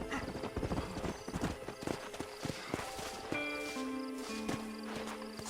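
Horse hoofbeats from Red Dead Redemption, a run of clip-clopping steps with an occasional whinny, then steadier tones and music as the gait slows; faint talk drifts underneath.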